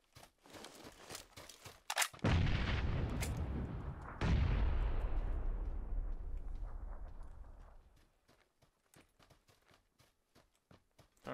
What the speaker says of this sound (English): Throw a random nade to the right.